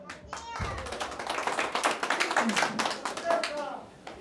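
Family members and guests clap together at a 50th birthday celebration, a busy patter of hands running steadily throughout, with a voice or two mixed in.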